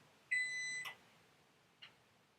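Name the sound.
oven beeping to signal it has preheated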